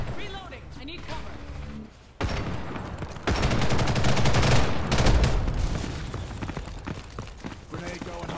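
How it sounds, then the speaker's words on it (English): Gunfire and a grenade explosion in a PC shooter game, with bursts of rapid shots and a loud blast under excited player talk, the sound dense and busy throughout. "Grenade going off."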